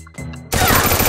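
Rapid burst of gunfire in the Free Fire battle royale game, starting abruptly after a quieter stretch of game sounds and continuing loud and dense to the end.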